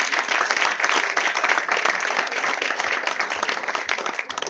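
Church congregation applauding and cheering together, a dense, steady wash of many clapping hands that holds loud throughout and eases slightly at the end.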